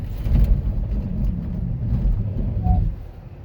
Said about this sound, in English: We're gonna go ahead and hit the brakes on this snowy road here